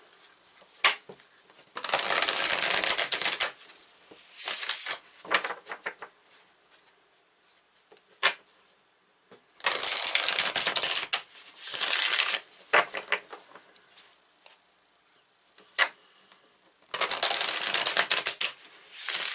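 Light Seers tarot deck being shuffled in several loud bursts of riffling and sliding cards, broken by short pauses with soft handling taps between them.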